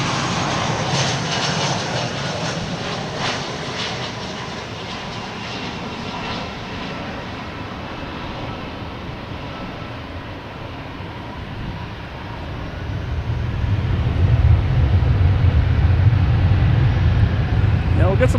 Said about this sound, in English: We got American Airlines, that's the sound you heard, taking off, heading to Chicago.